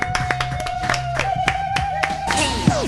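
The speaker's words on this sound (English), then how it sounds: "We got to give him a round of applause." Audience applause at a live hip-hop radio show, a burst of sharp, scattered hand claps heard up close over a sustained musical tone and background room noise.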